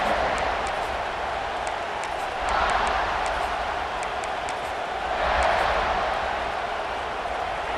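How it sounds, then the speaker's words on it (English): A stadium crowd in the EA Sports College Football 26 video game keeps up a steady, moderately quiet roar that swells twice in broad surges before settling back. "This crowd ready to make its presence known"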